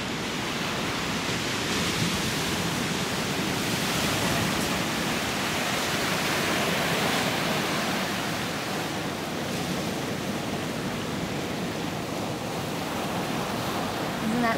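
Ocean surf along the Big Sur coast roars as a broad, continuous wash of breaking waves, loud and steady, with wind buffeting the microphone throughout.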